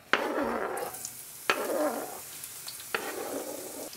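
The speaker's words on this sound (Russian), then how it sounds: "Пока лук только-только начал обжариваться" Oil sizzling steadily in a pan as onion begins to fry, with three sharp clatters as food or a utensil hits it; no voices.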